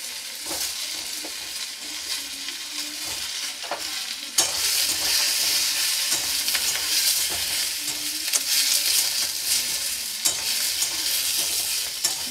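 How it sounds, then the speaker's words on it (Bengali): Eggplant and potato cooking in a little oil in a pan, stirred steadily with a constant bright sizzle and a scraping spatula, growing louder partway through and continuing without any talk. "এটা বেগুন আলুটা নাড়াচাড়া করে খুব সামান্য তেলে রান্নাটা করছি।"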